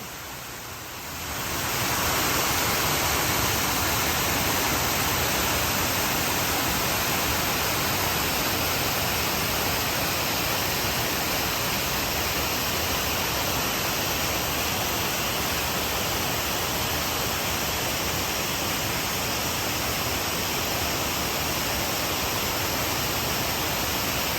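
Strong waterfall at Pocho do Diablo in Chapada Diamantina pours as a loud, steady, broadband roar with no break, close by and filling the scene after a brief quiet start.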